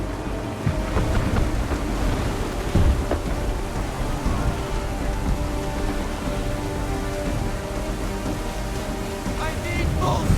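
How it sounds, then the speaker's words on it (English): Heavy rain and rolling thunder in a storm at sea aboard a sailing ship in Assassin's Creed, with a dense steady downpour, deep rumbles underneath and occasional louder cracks throughout. "There's a storm coming, Captain. Feels like a big one."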